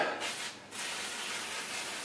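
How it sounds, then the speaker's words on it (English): A few quick hissing bursts of a spray bottle misting water onto a napkin, soft and close, with a short pause between sprays. "Spray down that napkin a little bit."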